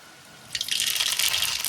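Whole dried red chillies and mustard seeds drop into hot oil, and a sudden bright, crackling sizzle bursts up, then keeps fizzing loudly and close for the rest of the moment.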